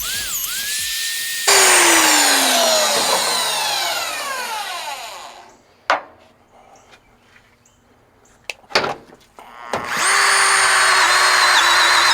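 A power drill used while fitting frame mounts on a 1983 Kenworth cabover truck whines loudly at high speed, winds down and stops, then a few sharp clunks follow before it spins up again.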